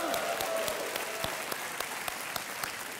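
Studio audience applauding on the KBC (Kaun Banega Crorepati) game show, a steady dense wash of clapping with a few sharper claps standing out, sustained for three seconds with no talk.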